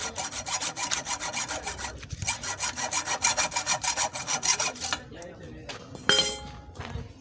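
Excess part of a coil being sawn off during thread repair work: fast regular rasping back-and-forth strokes, loud and close, stopping abruptly, followed by a metallic clink and ring.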